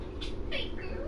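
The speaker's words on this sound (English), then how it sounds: "That's my cat." A house cat gives two short, faint meows over a low background hum, with a brief spoken voice nearby.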